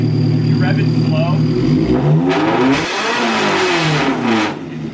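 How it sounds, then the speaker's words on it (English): A Nissan S14's engine revs slowly and rises to a rough, louder roar before settling back, heard close up while people talk over it. "Like, if you rev it slow,"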